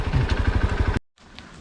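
A Hero Xpulse 200 4V motorcycle putters at a low idle close by while being parked, a rapid even thumping that stops suddenly, leaving faint background noise.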